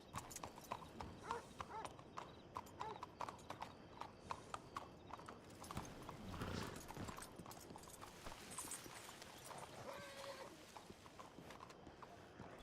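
Horse hooves clopping steadily on the ground in a video game, a close rhythmic walk with a brief whinny partway through, under a faint game ambience.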